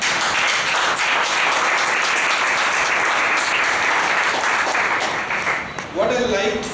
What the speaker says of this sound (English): I must give you a big round of applause for that